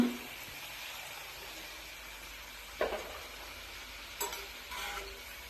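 Colocasia leaf vadi (alu vadi) frying in hot oil, a steady low sizzle throughout with a few brief louder crackles and stirring clinks, no talk.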